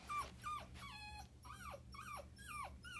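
Kade, a newly adopted dog, whimpers and yips in a run of high, wavering whines, about six cries in quick succession, fairly close and clear over a low background hum.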